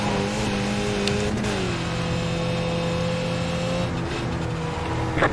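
Race car engine in a sim racing game lapping Mount Panorama, Bathurst, droning steadily up close, its pitch sagging and climbing through gear changes, with brief sharp clicks near the start and end.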